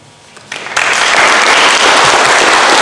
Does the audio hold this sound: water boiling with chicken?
no